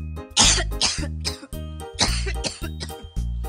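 A cartoon child coughs repeatedly in short, rough bursts, several coughs in a row with brief pauses, close and fairly loud with no talking.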